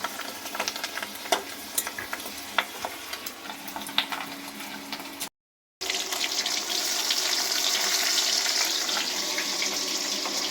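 Steady, dense sizzling of fish frying in hot oil, with scattered crackles and pops; a brief silent gap interrupts it midway.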